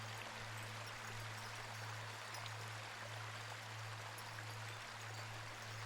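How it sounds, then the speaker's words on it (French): A waterfall pours steadily, its even rushing wash of water continuous and moderately distant, with a low steady hum running underneath. "près de la cascade où l'eau est plus profonde et plus chaude"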